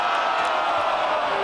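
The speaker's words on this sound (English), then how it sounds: "The crowd is not happy about that." A rugby match crowd in Toronto lets out a sustained, dissatisfied roar, a broad wash of many voices at steady loudness, distant and filling the whole short moment.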